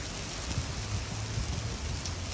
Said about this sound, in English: But right now it's just like major hail coming down.